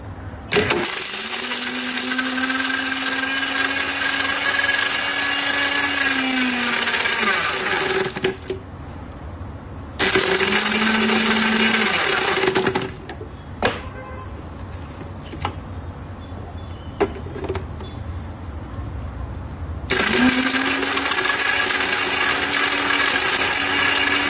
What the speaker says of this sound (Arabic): وراح نسوي لكم بيه تجربة ونشوفكم القوة مالت الخلاط